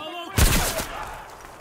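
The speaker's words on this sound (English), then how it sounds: "I'm under heavy fire." Gunfire in the VR shooter Zero Caliber, a single loud close blast with a booming low-end thump that rings out into a fading rumble, preceded by a brief moment of quiet.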